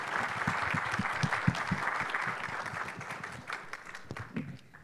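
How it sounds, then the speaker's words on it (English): An audience at a prostate cancer panel event gives the panelists a round of applause, with sustained, full clapping from the crowd that lasts several seconds and thins slightly at the end. "let's give our distinguished panel a round of applause"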